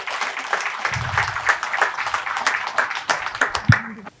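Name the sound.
audience applause welcoming a speaker to the stage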